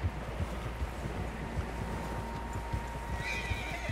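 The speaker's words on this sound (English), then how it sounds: "Horses, quite a few of them." Horses in the snowy mountains of Red Dead Redemption 2 make muffled hoof clops and shuffling over steady wind noise, with a faint whinny late on.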